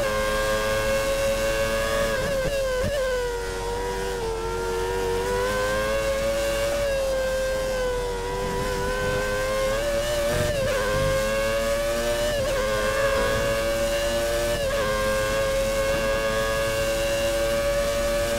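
Formula 1 car engine in the F1 2013 racing game, a Germany career race with 1990s cars, holding a steady high-pitched whine that rises and dips with gear changes, loud and continuous with no talking.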